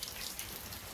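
Steady rain falls outdoors, a soft continuous patter of drops hitting surfaces with no voices and no breaks.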